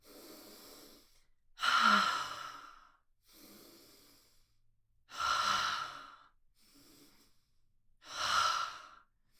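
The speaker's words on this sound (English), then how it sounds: "We're going to take an inhale and reach up." Slow, deep yoga breathing, close and clear with no talk: three strong, full breaths alternate with softer, shorter ones in a steady rhythm.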